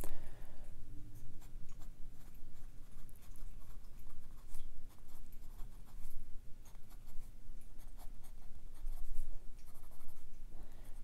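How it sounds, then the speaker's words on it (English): Fine-nib fountain pen writing on paper, a steady close scratching and patter of strokes with brief pauses between words, running alone throughout. "let me compare it to the fine nib on this fountain pen real quick"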